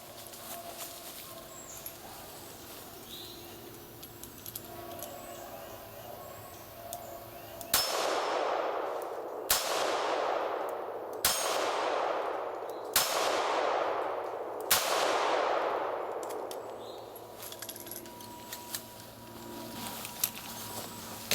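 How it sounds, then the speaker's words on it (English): Five sharp revolver shots from a Ruger LCRx fired double action at a steel action target 7 yards away, each a loud crack with a ringing metallic decay, spaced about two seconds apart over quiet outdoor background. "I'll be shooting at the action target with Ruger LCRx at 7 yards."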